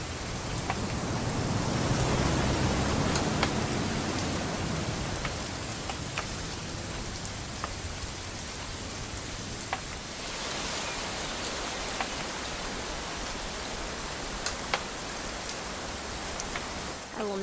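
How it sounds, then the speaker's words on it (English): Steady rain in the video game What Remains of Edith Finch, a dense, constant wash of falling water with scattered drop ticks, slightly heavier at the start, continuing evenly throughout with no voices. "It's gonna rain the whole weekend, isn't it?"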